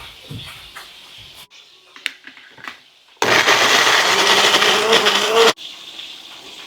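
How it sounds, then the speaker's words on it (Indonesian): Electric kitchen blender grinding chili, garlic and shallots, a loud steady whirring burst of about two seconds, with quieter kitchen clatter and brief sounds before and after. "di sini saya mau haluskan cabai, bawang putih, bawang merah untuk tumis petai"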